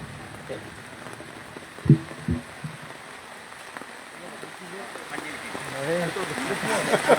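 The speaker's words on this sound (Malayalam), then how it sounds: "മഴ ഊപ്പാണ് വന്നത്" Steady hiss of heavy rain pouring down throughout, with people talking over it and a couple of sharp knocks partway through.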